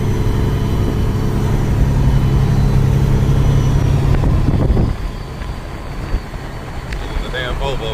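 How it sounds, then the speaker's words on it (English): Detroit diesel engine of a truck running, a loud, steady low rumble that cuts off partway through, leaving quieter idle and wind noise. "This Detroit makes some noise."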